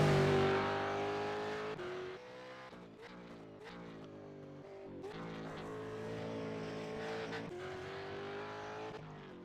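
Supercar engines at Winton Motor Raceway in iRacing roar close and loud, with revs rising and falling through gear changes in a steady, unbroken drone.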